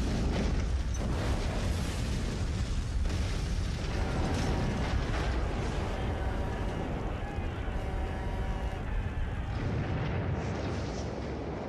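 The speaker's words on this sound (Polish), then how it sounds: "Wybucha w maszynowni." A methane explosion tears through the engine room of the Deepwater Horizon offshore oil rig, heard as a sustained, loud roaring blast with rumbling bursts and mechanical clatter filling nearly twelve seconds without pause.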